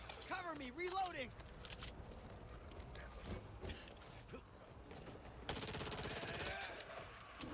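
Gunfire in the zombie shooter Back 4 Blood, with rapid bursts of shots cracking over busy game noise and muffled voices, then a denser stretch of firing near the end.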